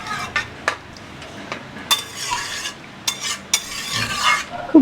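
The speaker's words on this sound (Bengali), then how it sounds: "এর মধ্যে দিয়ে দেব জল। আবারও আমি খুব ভালো করে নেড়ে দেব।" Potato and pointed gourd curry is stirred in a pan after water is added, with intermittent scraping strokes and clinks of the spoon against the pan over a soft bubbling simmer.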